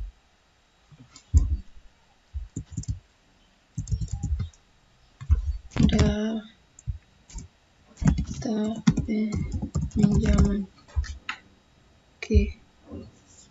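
Keys on a computer keyboard are pressed for a Ctrl F shortcut, with crisp close clicks scattered under a person talking.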